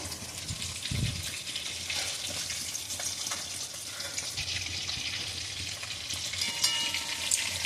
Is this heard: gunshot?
no